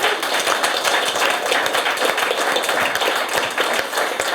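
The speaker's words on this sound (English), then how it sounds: "I also want to have another applause for our amazing speakers today" Audience applause for panel speakers at a live metaverse talk event, a dense, steady wash of many hands clapping close and loud throughout.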